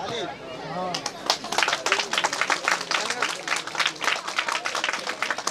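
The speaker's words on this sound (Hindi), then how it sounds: "आग्रह होगा मंच, थोड़ी तालियां बजनी चाहिए।" Audience at a Kali Puja stage event applauding to welcome guests, dense sustained clapping from a crowd that swells after a brief opening and continues steadily, with some murmured voices underneath.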